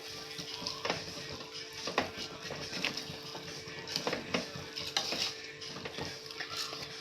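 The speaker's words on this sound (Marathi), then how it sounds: "ह्याला व्यवस्थित मिक्स करून घेऊया, भाजून घेऊया थोडंसं तांदूळ सगळ्या मसाल्यामध्ये." Rice is stirred and roasted in a spiced masala in a pan for biryani, giving a steady sizzle and frying hiss broken by repeated scraping strokes of the spoon, close and continuous.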